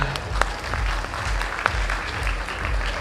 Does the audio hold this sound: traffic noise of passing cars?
no